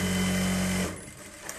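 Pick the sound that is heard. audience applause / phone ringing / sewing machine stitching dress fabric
sewing machine stitching dress fabric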